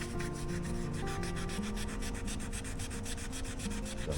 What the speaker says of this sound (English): to just wear down the epoxy and not actually get into the stanchion. And it's slow going.